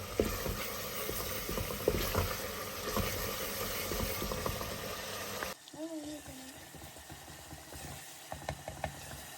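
Masala frying in a pan for an egg and potato dish, a dense steady sizzle that runs loud for about five seconds, then drops to softer crackling with brief sharper pops.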